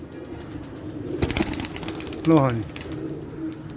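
Pigeons stir close by, with a burst of wing flapping followed by a short warbling coo, under a voice speaking briefly.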